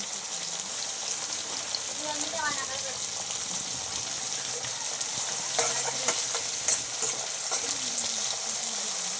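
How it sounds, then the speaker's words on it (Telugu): Curry leaves fry and sizzle in hot oil, a steady bright crackle close up with stirring clinks, while a person talks faintly in the background. "కరివేపాకు వేసుకోవాలి."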